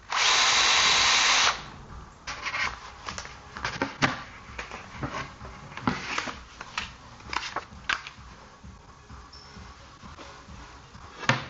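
A power drill whirs loudly at first while driving screws into plywood for a storage case, then gives way to scattered knocks, taps and handling noises of the work.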